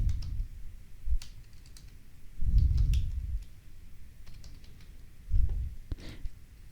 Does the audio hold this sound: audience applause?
no